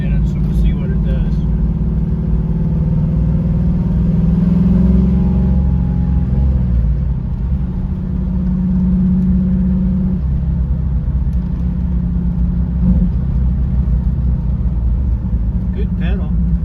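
A car on a road test after a new rear end was fitted accelerates with a steady low engine rumble, revving up and shifting over a sustained drive, loud and close from inside the cabin.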